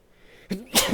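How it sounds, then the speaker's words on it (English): A single sneeze close by: a short sharp inhale, then a loud explosive burst of breath. "hold on, I have to sneeze."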